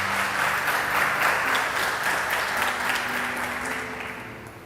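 A church congregation applauds together during an evening service, a dense, steady burst of clapping that holds for several seconds and gradually fades.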